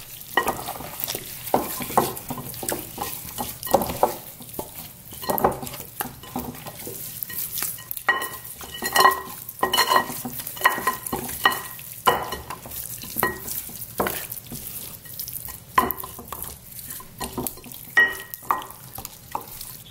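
Apple cider vinegar, minced garlic and black pepper are stirred together for a beef rib gravy, giving a close, rhythmic run of wet scraping and stirring strokes with no talk.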